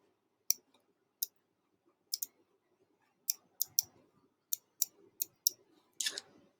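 Sharp computer mouse clicks, single and in quick pairs, spaced irregularly and close up while editing in Photoshop, with faint background hiss and no talking.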